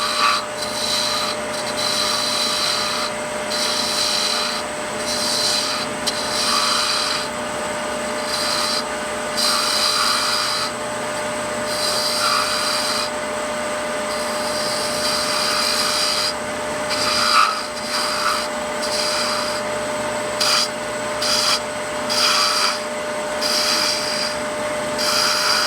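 A wood lathe takes a heavy spindle cut while turning a hollowed Christmas ornament with a finial, giving a loud, steady rasping scrape with a pulsing, rhythmic texture that runs without pause.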